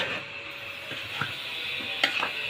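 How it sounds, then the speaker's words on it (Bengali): Red lentils stir in a hot pan, producing soft scraping and light sizzling with a few faint spoon clicks against the metal, close and quiet with no speech. "এখন মসুরের ডালটা দিয়ে দিলাম।"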